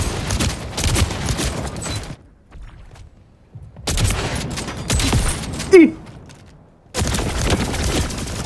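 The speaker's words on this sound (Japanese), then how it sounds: "さっきね、敵が使ってたショットガン強かったから、使ってみようかなと思うんですけど" Bursts of shotgun fire in the online shooter Splitgate 2, loud blasts and reverberant booms in clustered volleys with brief quiet gaps between them, no talk over them.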